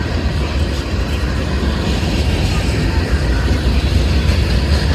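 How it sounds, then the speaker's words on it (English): A CSX freight train rumbles steadily nearby as it rounds a curve, a continuous low roar with rattling wheels and no clear beginning or end. "Might be the end of the train coming around the curve down there"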